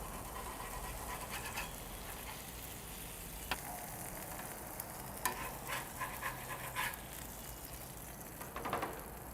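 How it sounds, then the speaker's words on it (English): Water hits a hot griddle holding cheese-topped burgers and buns, producing a steady broad sizzle and steam hiss throughout, with a few faint scraping clicks and a short scrape near the end. "a little water down over here. It's gonna steam that cheese and help soften the buns as well."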